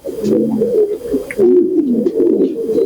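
Several pigeons coo steadily at a pigeon market, their low throaty calls overlapping close by in a continuous, fairly loud chorus with a few brief chirps above.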